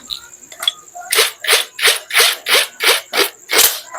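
A 10mm wrench tightens a bolt on a Kawasaki Fury 125 engine during assembly, about eight rhythmic ratcheting rasps close up at a steady pace after a brief metallic tap.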